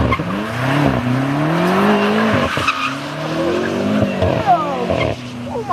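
A BMW F90 M5 spins donuts, its tires squealing and skidding in long, wavering howls over the roaring engine, with excited voices nearby.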